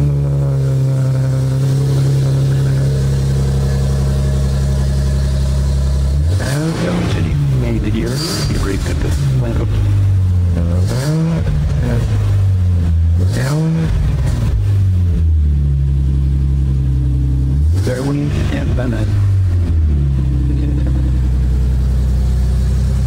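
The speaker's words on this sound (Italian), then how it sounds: "Il sound è derivato appunto da un impianto di scarico completamente in acciaio inox" A Nissan 370Z sports car fitted with a full stainless steel exhaust idles with a steady low drone, then revs in several loud, rising and falling bursts, close and clear with no talking.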